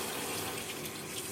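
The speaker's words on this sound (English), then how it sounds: "Let me fill up the sink with a little bit of hot water." Hot water runs from a tap into a bathroom sink, a steady, even rushing gush that fills the whole moment with no pauses and no voices.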